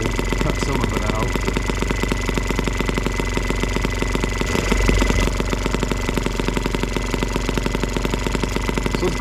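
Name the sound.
M12B engine idling on alternative fuel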